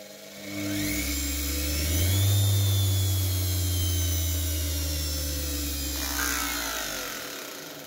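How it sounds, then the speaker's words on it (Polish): A washing machine motor runs in reverse on a workbench, giving a loud close whirring hum that spins up, holds steady with a tonal whine, and then slowly winds down, with no voices. "Jak widać, silniczek pracuje w drugą stronę."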